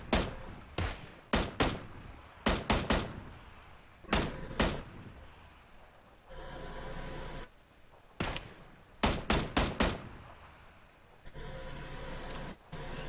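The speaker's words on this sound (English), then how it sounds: "Terrible shooting. I hit him 3 times." Sharp bursts of gunfire in PUBG, fired in quick clusters of single shots, several volleys separated by brief pauses and quieter stretches of continuous noise, loud and close with no talking.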